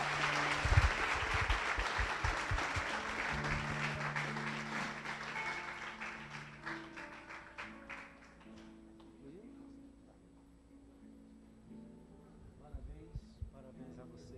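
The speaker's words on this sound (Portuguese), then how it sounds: "Vamos dar uma salva de palmas a Jesus." A church congregation applauds after a call to clap for Jesus, the clapping dense and loud at first, then thinning out, with voices talking and some music tones through it.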